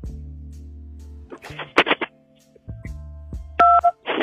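Telephone keypad tones sound as buttons are pressed on a mobile phone during a call: a few short electronic beeps spaced irregularly, with quiet gaps and some faint background noise between them.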